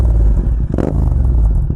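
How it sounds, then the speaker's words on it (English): Motorcycle fitted with an Akrapovic aftermarket exhaust, a loud, close, steady engine rumble with a brief rev-like surge in the middle, heard alone without talk. "that Akrapovic exhaust. How do you guys get tired of hearing the beautiful sound of a motorcycle with an aftermarket exhaust?"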